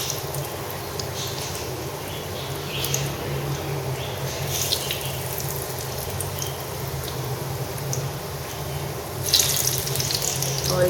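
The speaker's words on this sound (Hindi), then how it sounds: "बहुत लाइट फ्लेम पे इसको फ्राई करना है।" Russian kebabs fry in oil over a very low flame, giving a steady, even sizzle that stays close and continuous throughout, with a slight swell near the end.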